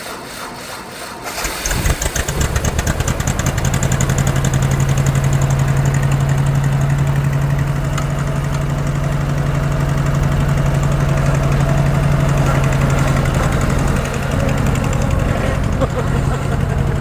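A Ford 801 tractor engine idles after a brief start, settling into a loud, steady, low rumble with a constant droning hum and slight knocking vibration, close up with no talk.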